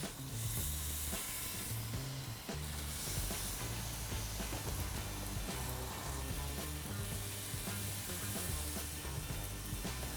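Marinated aubergines and onions sizzle on a barbecue grill, a continuous hissing crackle layered over a steady low background music bed, no speech.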